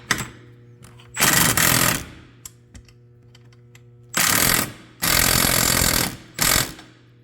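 An impact wrench fastens a bolt and nut on a Can-Am X3 shock tower support, firing in four loud, harsh hammering bursts of about a second each, with small metallic clicks in the quiet gaps.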